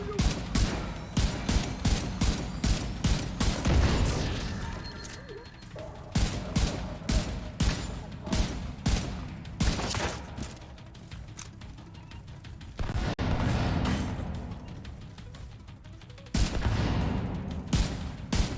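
Rapid bursts of automatic gunfire from the video game The Division 2 crackle loud and close, in repeated volleys with short gaps between them.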